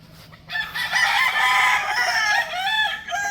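A Roundhead gamefowl rooster crows once in a long, loud, close call with a wavering, drawn-out tail, preceded by a brief moment of quiet.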